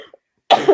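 A single sharp, close cough bursts out after a brief quiet moment, loud and harsh, from someone kept awake at night by a lingering cough.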